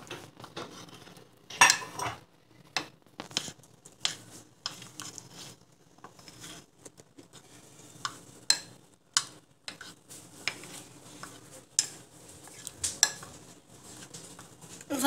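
A utensil stirs crème fraîche into chocolate cake batter in a bowl, making soft scraping swishes and intermittent light clinks against the dish in an irregular rhythm, fairly quiet and close.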